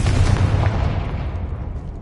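A Confringo blasting spell bursting in Hogwarts Legacy, one loud, close explosive boom with a deep rumble that decays over about two seconds.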